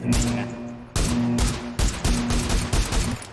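Bursts of automatic gunfire in the video game PUBG come loud and close: a long sustained burst, then several shorter rapid volleys in quick succession, with no speech.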